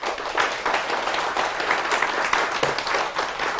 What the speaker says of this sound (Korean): 우리 하나님 앞에 영광의 박수 한번 돌리겠습니다